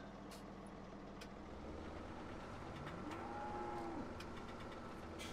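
A cow moos once in Farming Simulator 17, a drawn-out low call rising and falling over a steady background rumble of farm machinery, with a few faint clicks.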